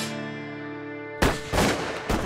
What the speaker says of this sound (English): That sounds like gunshots.